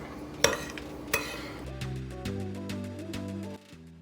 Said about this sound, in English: what I have here is a mixture of cinnamon and just regular white granulated sugar. And we're just going to give this a mix